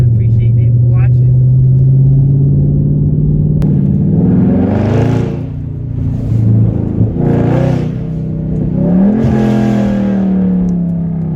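Dodge Charger 392 Scat Pack V8 pulling hard in first gear, a deep loud engine drone that rises in pitch through several surging revs, with occupants talking over it.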